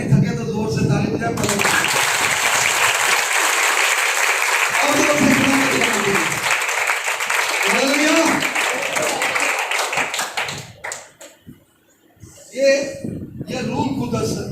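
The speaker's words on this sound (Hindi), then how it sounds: "अगर नहीं थके तो जोर से ताली बजाए" A congregation at a church revival service claps loudly in a dense, sustained burst lasting several seconds, with voices and chuckles mixed in, before it drops off and a speaker resumes.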